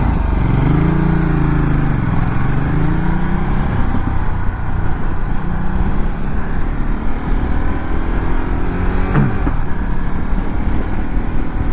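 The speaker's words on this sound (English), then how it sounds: "I'm riding 2019 Ducati multi-strada Pikes Peak" A 2019 Ducati Multistrada Pikes Peak motorcycle is ridden with a steady engine drone and wind rush. Its revs rise and fall with gear changes, and a sharp bump is heard partway through.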